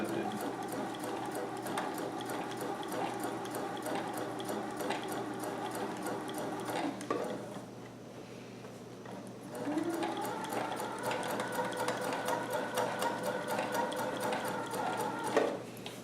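A home sewing machine stitches a neat edge along a Hawaiian shirt sleeve, giving a steady, close mechanical whir with rapid needle clatter. It pauses briefly near the middle, then runs again at a continuous, even pace.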